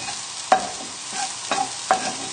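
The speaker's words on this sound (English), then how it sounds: "There, it's starting to sizzle now" Garlic and shallots sizzle in a hot pan with a steady frying hiss, while a utensil stirs and scrapes them with several soft knocks, close up.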